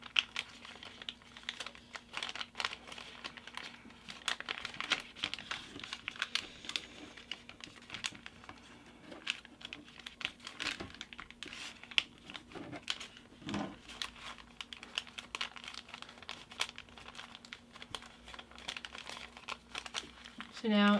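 Origami paper being folded and creased into a baby dragon model, soft close crinkling and rustling with crisp papery crackles running steadily for the whole stretch, while a person talks quietly over it.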